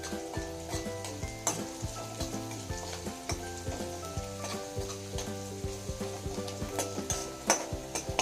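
Sliced onions frying in a pan for a potato bhungla dish, a dense close sizzle broken by rhythmic clanks and scrapes of a spoon stirring against the pan.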